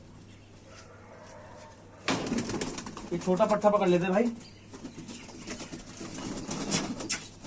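Pigeons coo in low, rolling bursts close by, mixed with rustling and someone speaking over them.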